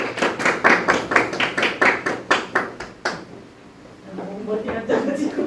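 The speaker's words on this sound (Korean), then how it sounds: "박수 한 번만 부탁드릴게요." About a dozen loud, evenly spaced claps ring out, then a pause before people begin talking.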